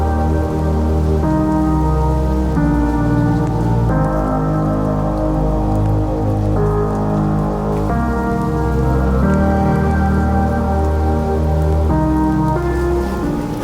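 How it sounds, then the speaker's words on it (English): A heavy rainstorm pours steadily onto a boat at anchor, with dense, even drumming of drops on its surfaces throughout and no speech. "the rain started just as we were leaving"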